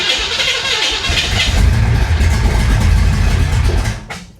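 A flood-damaged 1966 Impala engine cranks and catches, then runs with a rough, loud low rumble for a few seconds before dying away.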